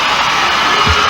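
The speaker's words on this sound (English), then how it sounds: "Oh, what a warm round of applause." A dense, steady roar of a large crowd at the Soul Train Music Awards in the Shrine Auditorium, cheering and applauding continuously throughout, close and loud, with no clear individual voices.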